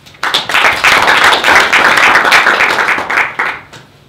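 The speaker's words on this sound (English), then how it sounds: "So, warm applause for him." Audience applause at a hydrogen valleys workshop, a dense burst of clapping that starts abruptly, holds steady and loud for about three seconds, then tapers off.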